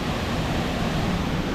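Waterfall in Wales, a continuous dense roar of falling water, loud and unbroken throughout the short stretch with no voices.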